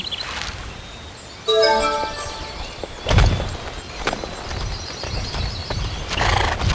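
Horse in the Barbie Horse Adventures: Riding Camp game, a sharp whinny followed by snorts and hoof thuds against faint background ambience.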